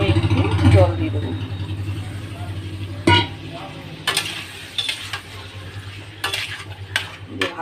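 Spices fry with a soft sizzle in a pan for a home-cooked paneer offering while a spoon stirs them, scraping and knocking against the metal several times, and a voice talks over it at the start.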